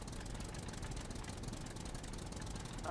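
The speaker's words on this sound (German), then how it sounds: "Da kommt ein Auto angeblasen." A car engine chugs in the SCUM video game as the vehicle approaches, a faint, steady rhythmic rumble that stays quiet and distant throughout.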